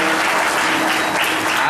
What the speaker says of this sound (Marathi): अशाच टाळ्या तिथं सगळ्यांनी वाजवल्या